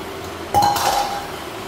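Sugar and black pepper stirred together for southern fried cabbage, a single sharp clink of utensil against a dish followed by a brief ringing tone and scraping, close and alone.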